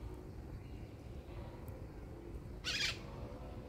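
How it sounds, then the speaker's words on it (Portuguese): A bird in a backyard garden beside a mango tree gives one short, bright call partway through, heard faintly over a steady low background hum. "Olha o pássaro."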